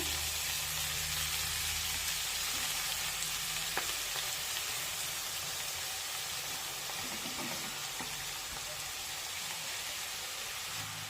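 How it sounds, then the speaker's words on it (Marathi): Chopped fenugreek leaves frying in lightly heated oil over a low flame, a steady close sizzle with occasional faint stirring clicks, no talk. "तेल हलकसं गरम झालं की त्यामध्ये ही कापून घेतलेली मेथीची भाजी टाकूया।"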